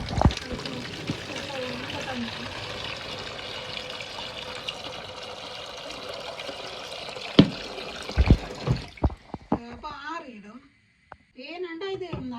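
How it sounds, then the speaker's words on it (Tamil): Water is poured and stirred into a hot, freshly boiled palmyra-pulp soap mixture, a continuous close trickling splash that gives way to someone talking. "நல்ல சூட்டோடையே கொஞ்சம் தண்ணியை கலந்து வைக்கணும்"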